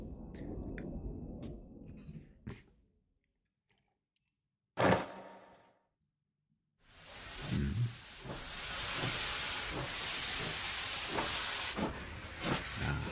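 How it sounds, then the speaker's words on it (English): A steam engine train from a video game: a sharp burst of hissing steam, a pause, then a long rushing chuff of steam and rolling train noise that builds and holds loud to the end. "Steam engines, yeah."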